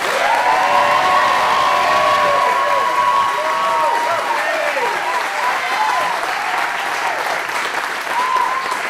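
A large crowd at a 2015 campaign announcement applauds and cheers, with sustained clapping, whoops and shouted voices filling the space for the whole stretch at a loud, even level.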